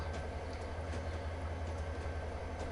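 A freight train rolls through Cajon Pass in Train Simulator, a steady low rumble of wagons with faint rhythmic clicks, continuous and even with no speech.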